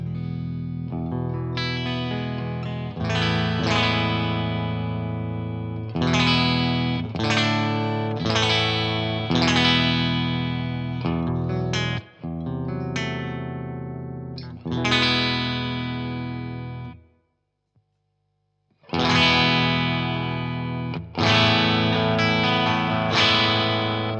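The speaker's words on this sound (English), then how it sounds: "I will run from the first clean voicing, which is more like an American, over to our more British style sounds" Electric guitar through a Blackstar HT Venue Mk 2 amp played on its clean voicings, moving from an American to a British style: chords and notes ring with sustain, chorus and reverb, broken by one brief silent gap.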